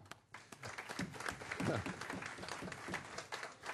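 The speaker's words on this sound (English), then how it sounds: "Clap." A conference audience applauds after thanks from the stage, a sustained patter of many hands clapping, fairly faint and heard from a distance.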